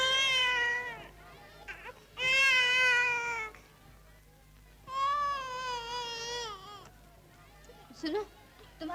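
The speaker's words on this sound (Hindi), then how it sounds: "सुनो, तुम्हारा बच्चा रो रहा है।" A baby cries in a classic 1958 Bollywood film scene, with several loud wailing bursts separated by short pauses and softer sobbing sounds between them.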